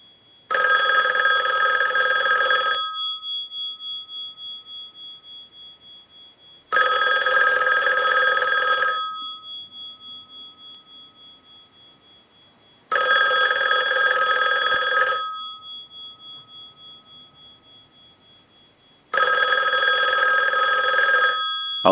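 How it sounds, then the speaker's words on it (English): The bell of an ITT 554 rotary wall telephone, driven by a test ring cycle, rings in four long bursts, each about two seconds, separated by quiet pauses with a fading ring-off after each burst. "use the analyzer and send a ring cycle like you were getting a call"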